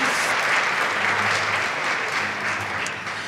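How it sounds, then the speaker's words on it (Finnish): An audience at a Finnish public-health seminar gives a standing ovation, a continuous wash of close, even clapping with no pauses. "Let's give a big and standing ovation, perhaps."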